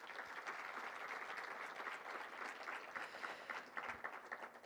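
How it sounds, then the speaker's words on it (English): An audience applauds at the 107th Rose Queen announcement, a steady sustained wash of clapping from a large crowd, heard from some distance. "Another big round of applause for Olivia."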